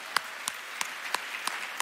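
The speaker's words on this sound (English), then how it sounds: "I think it deserves a round of applause." Sparse, scattered claps from a small audience at an awards ceremony, about six distinct hand claps spaced unevenly across a short stretch, fairly faint.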